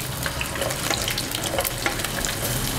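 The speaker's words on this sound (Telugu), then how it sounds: "నూనె వేడెక్కింది అందులో మనం ముందుగా పెట్టుకున్న దొండకాయ ముక్కల్ని వేసుకుందాం" Pieces of ivy gourd (tondakaya) fry in hot oil with a loud, dense, continuous sizzle and crackle heard up close, with no talking.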